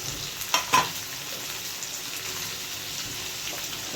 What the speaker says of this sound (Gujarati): ટમેટા નાખી દીધા